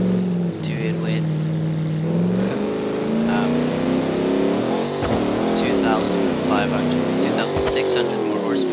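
Engine roar from a car in the Automation game fitted with twin scroll turbos and about 2,600 extra horsepower, droning steadily and climbing in pitch, loud throughout with speech over it.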